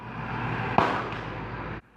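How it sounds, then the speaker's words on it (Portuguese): A police officer's 12-gauge shotgun fires a rubber bullet at an armed suspect: one sharp, loud bang cuts through steady background noise, then the noise fades out. "o PM aponta a espingarda calibre 12 para o suspeito, que está armado com uma faca, e solta o primeiro disparo com bala de borracha"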